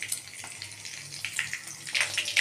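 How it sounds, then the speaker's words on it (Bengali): Whole garam masala sizzles in hot oil for tempering, a faint, uneven crackle and spatter that grows a little louder toward the end. "এখন আমি দিয়ে দেবো গোটা গরম মশলা ফোড়ন"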